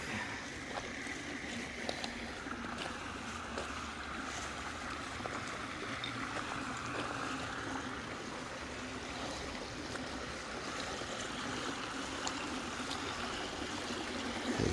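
A creek runs along a golf course in a steady, even wash of flowing water that holds at a moderate level throughout, with a few faint knocks and no talking.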